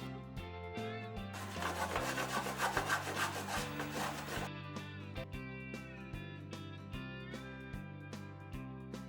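Plain Dairy Milk chocolate, chilled in a fridge, is grated for an eggless no-oven cake, giving quiet repeated rasping strokes in a steady rhythm with a denser scraping burst in the middle, and no talk.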